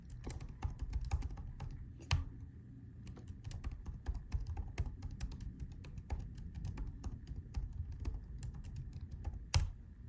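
Rapid, steady clacking of a computer keyboard as a long password is typed, dense keystrokes running throughout with a few sharper, louder taps standing out, close and alone with no voices.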